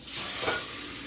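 Shrimp steam in a pan with a little water, giving a brief broad hiss and sizzle that swells and then settles to a steady wash of sound, close by.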